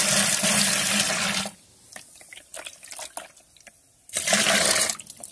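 Water poured into a container to dilute homemade Epsom salt (magnesium sulphate) for plants, a steady loud splashing stream that stops, then a quieter pause with small drips and handling knocks, before the pouring resumes just as loudly.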